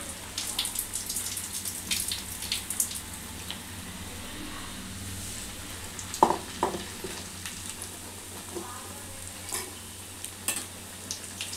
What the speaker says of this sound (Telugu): ఇట్లా మంచిగా గోల్డెన్ కలర్ వచ్చే వరకు ఇట్లా వేయించుకోవాలి